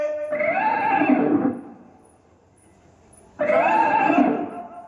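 A horse neighs twice, each whinny long, loud and close with a shaking, wavering pitch, separated by a quiet pause of about two seconds.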